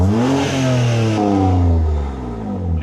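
A BMW M3 fitted with a new exhaust revs loudly up close, its rasping engine note sweeping up and then sliding back down in one sustained burst with a slight crackle.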